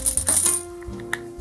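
A roll of quarters tipped out of its opened paper wrapper, a quick metallic clatter of coins sliding and clinking together in a burst, then a few faint stray clinks as they settle.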